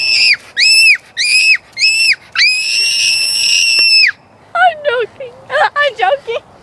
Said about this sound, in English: At least I got a good scream.